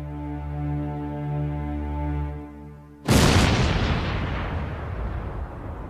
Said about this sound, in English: the world's largest cannon